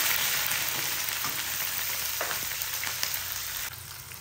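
Chopped onion frying in hot oil with fenugreek seeds gives a steady, close, dense sizzle that crackles continuously throughout, with no voices over it.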